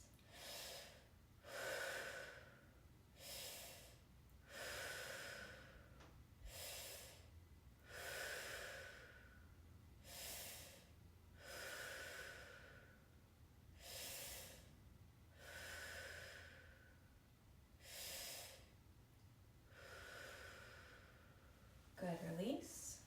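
Deep, slow breathing during a lower-body fascia stretch: about a dozen broad inhales and exhales in a steady, even rhythm, close and fairly soft, with no talking over them.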